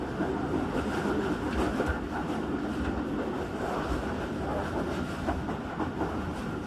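The Tezgam Express rolls slowly through a rail yard under upgrade at about 10 km/h, with a steady rumble of wheels and car noise and faint clickety-clack heard from on board, continuous and fairly loud.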